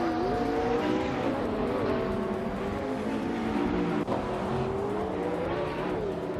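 Race cars in a racing video game, engines whining and rising and falling in pitch as several cars run close together, loud and continuous with no voices.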